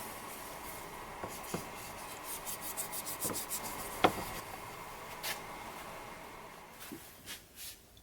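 True Oil finish being rubbed by hand onto a rectangular wooden dish, a soft, quiet scuffing and rasping with a few light taps and clicks, close by and steady, with no talking.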